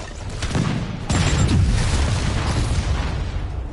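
Rocket explosions in Marvel's Spider-Man burst in a loud rolling barrage, a heavy boom striking around the one-second mark and sustained rumbling blasts following, with no talking.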